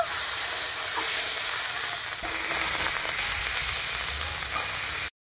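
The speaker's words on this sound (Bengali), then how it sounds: "বেটে রাখা যে মশলাটা আমি কড়াই দিয়ে দেবো।" Ground spice paste frying in oil in a wok, a loud continuous hissing sizzle with occasional pops and a slight rise midway, ending abruptly in silence.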